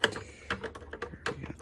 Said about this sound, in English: Gonna go ahead and just take out all our screws.